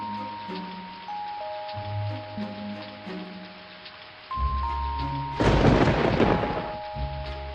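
Soft music with sustained tones gives way to a sudden rush of heavy rain, then a loud, close rumble of thunder swells over the downpour before the music returns.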